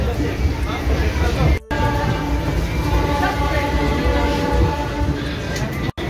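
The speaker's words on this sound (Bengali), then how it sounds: "একদম রাইট টাইমে আমাদের ট্রেন ছেড়ে দিয়েছে।" A passenger train rolling on the rails between Siliguri and Malbazar, heard from inside as a loud, steady, continuous rumble with a couple of brief dropouts.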